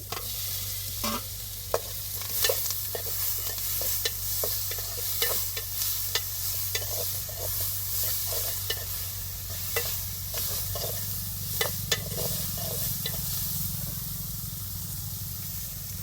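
Onions sautéing in a pan for a home-cooked lunch, a steady close sizzle with repeated sharp scraping strokes of a spoon stirring them, continuing evenly throughout with no talking.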